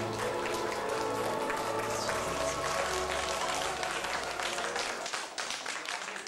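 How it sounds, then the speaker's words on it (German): Guests at a company party applaud after a magician's table trick. Dense, steady clapping from a crowd continues for several seconds at moderate level, then thins out slightly toward the end. "Dankeschön, dein Applaus."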